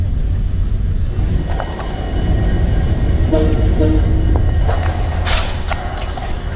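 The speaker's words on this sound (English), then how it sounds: "Locomotive sounds. I was missing them from a long time." An Indian Railways locomotive and train roll into Yesvantpur station with a loud, continuous rumble and clatter of wheels. Brief tonal horn-like blasts and metallic clanks rise above it.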